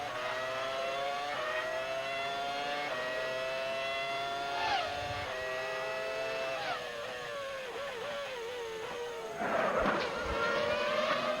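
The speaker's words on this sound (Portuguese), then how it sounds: "Jacques Villeneuve com a BAR, motor Honda" A Formula 1 race car with a Honda engine, run by the BAR team at the 2001 Canadian Grand Prix, screams at high revs, its pitch rising and dipping through gear changes, loud and continuous with other cars blending in.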